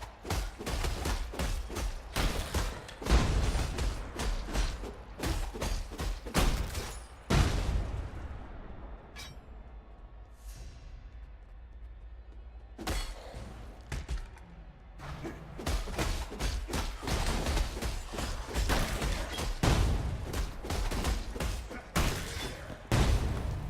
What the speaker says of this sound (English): That explosion looks like it should do a lot more damage than it's doing.